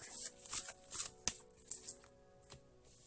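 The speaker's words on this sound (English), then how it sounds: "One more shuffle, they say." Tarot cards being shuffled up close, several short riffling bursts at an uneven pace with brief quiet gaps, fairly soft.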